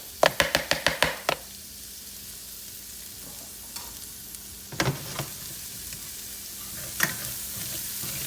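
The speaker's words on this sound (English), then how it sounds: "I'm going to put the onions and the garlic in it." Onions and garlic fry in a pan with leftover meat juices, giving a soft, steady sizzle. A quick burst of sharp knocks and clatter opens it, and a few stirring scrapes follow.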